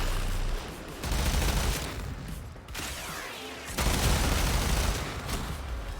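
A bomb blows up in the video game Warframe, a dense roaring burst of noise with rumbling low booms that swells, dips into a brief lull and surges again across several seconds.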